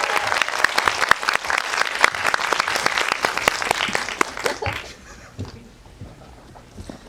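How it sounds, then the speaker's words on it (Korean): A cinema audience gives loud, sustained applause welcoming a film director on stage, a dense roar of clapping that tapers off into scattered claps and quiet room noise. "우리 김성수 감독님 모실게요. 큰 박수로 맞이해주세요."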